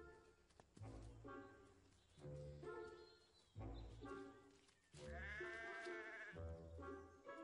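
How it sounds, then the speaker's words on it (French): Sheep bleat repeatedly in an orchard after the hay has been cut, several wavering calls in succession, fairly close and clear with no talk. "Même après la fauche, les moutons savent tirer leur épingle du jeu."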